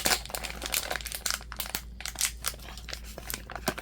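Scissors cut through plastic toy packaging, producing close, dense crinkling and crunching in quick irregular bursts that run almost continuously.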